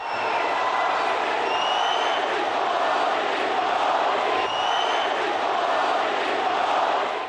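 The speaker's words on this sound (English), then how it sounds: "met by a sea of excited Indian Americans chanting his name" A huge arena crowd of Indian Americans at the Nassau Coliseum on Long Island roars and chants for Prime Minister Modi, a continuous, loud, dense wall of cheering voices.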